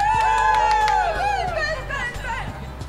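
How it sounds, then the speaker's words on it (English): A television studio audience cheers and shouts for a contestant, many overlapping voices rising in whoops and chatter, loud and close throughout. "I wanna hear Ben's rooting crowd."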